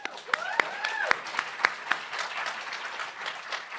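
Scattered clapping from the audience at the UC Irvine Law moot court competition finals, a handful of sharp distinct claps over a background voice, thinning out toward the end.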